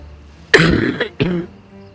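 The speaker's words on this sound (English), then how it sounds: "I'm just still sitting with a bit of a cough after the flu." A person still recovering from the flu clears their throat and coughs twice in quick succession, close and fairly loud, with quiet around it.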